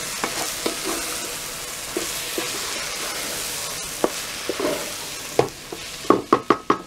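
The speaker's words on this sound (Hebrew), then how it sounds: "אני מערבבת" Spoon stirring tomato soup with rice in a pot, steady scraping and swishing with a soft sizzle beneath, ending in a series of sharp clinks and taps against the pot's rim.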